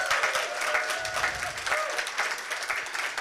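An indoor audience at a community pitch competition applauds and cheers for the competing teams, a sustained round of clapping with rising whoops and shouts.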